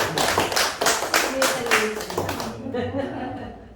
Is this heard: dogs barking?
no